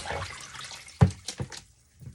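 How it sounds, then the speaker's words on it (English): Rinse water from washing a wig is poured out of a container in a few short splashes and gurgles, close by, with trickling before the pours and a brief drip near the end. "So I keep dumping this water out"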